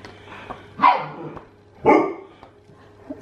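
Puppies giving two short, fairly loud barks about a second apart, with a low steady hum in the background.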